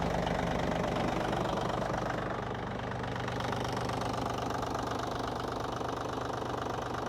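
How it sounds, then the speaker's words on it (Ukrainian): An ISEKI TA287 compact tractor's small diesel engine idles steadily nearby with an even, knocking chug and constant vibration throughout, no voices. "Двигун працює рівно, нічого не димить, нічого не сапунить"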